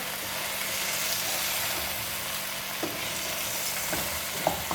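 Macaroni pasta frying in a pan gives a steady, hissing sizzle, close and even, with a few light scrapes and clicks from stirring near the end and no talking.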